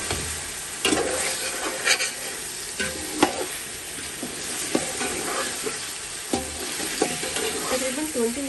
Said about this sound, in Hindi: तकरीबन 20 मिनट तक हम इसको मसाले को भूनेंगे अच्छी तरह से।